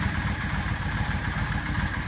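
A 2004 Yamaha V Star 650 motorcycle idles with its choke out, a loud close-up engine putter with a steady, even low-pitched pulse throughout.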